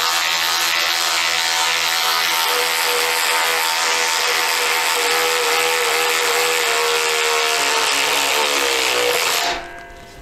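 Ryobi cordless ratchet wrench driving a 10 mm lag screw into wood, a loud continuous motorized grinding with rapid ratcheting that runs for about nine seconds, then cuts off abruptly.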